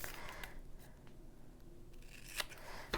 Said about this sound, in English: For like smaller items that I'm trying to cut, these thread snippers are the bomb